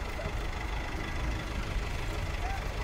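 A tractor engine idles at a street protest outside the Uttar Pradesh assembly in Lucknow, where tractors have arrived loaded with sugarcane. It makes a steady low rumble with a constant broadband noise and no clear breaks.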